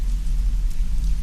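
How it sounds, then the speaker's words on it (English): Heavy rain pouring down around a woodland cabin, a dense steady roar of falling water with a deep low rumble beneath, loud and unbroken throughout. "especially when the sky opens up and the rain starts to pour"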